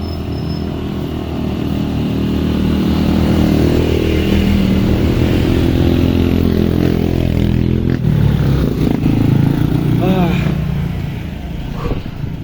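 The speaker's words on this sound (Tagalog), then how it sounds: "Hirapan din mga motor." Motorcycle engines labor up a steep mountain road, a loud, close, sustained rumble with rising and falling revs that stays near constant for the whole stretch, with a voice talking over it at moments.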